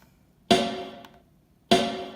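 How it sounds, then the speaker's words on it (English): Two sharp snare drum hits ring out about a second apart, crisp and close, each with a short decaying rattle. "So the snare drum just sounds like this."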